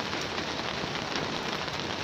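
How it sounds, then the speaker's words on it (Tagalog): Rain falls steadily, a dense continuous hiss of drops striking surfaces, fairly loud and even throughout with no voices. "Kasi umuulan na po."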